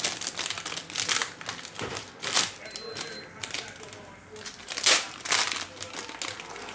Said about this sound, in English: And let's rip open this pack.